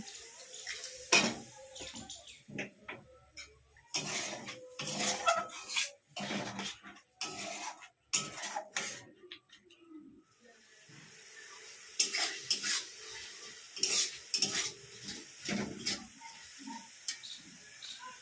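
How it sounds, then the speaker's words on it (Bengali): Jackfruit curry ingredients stirred in a pot, with water poured in, bursts of spoon scraping and clatter against the pan alternating with short pauses, a soft sizzle beneath, fairly quiet and close. "সমস্ত ইনগ্রিডিয়েন্টসগুলোকে আমি ভালোভাবে নেড়ে চেড়ে হাফ কাপ পরিমাণে জল দিয়ে আমি এটাকে সিদ্ধ হতে দেব।"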